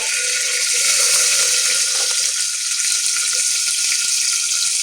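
Ginger-garlic paste, curry leaves and onion frying in a pan for masala rice, a loud, steady, dense sizzle that fills the whole stretch without a break.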